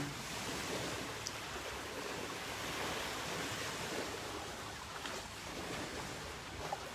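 Steady rushing water, like waves washing onto a shore, continuous and fairly close with a soft hiss and no voices.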